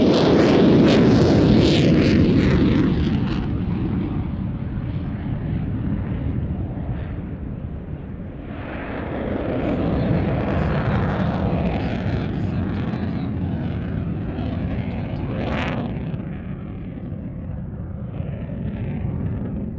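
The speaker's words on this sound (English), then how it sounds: "Dropping the Eurofighter ground speed to probably, as it's into wind, below 100 knots." Eurofighter jet flying slowly nose-high into wind at an air show, a loud, continuous roaring engine rumble that swells and fades as it passes, with no talk over it.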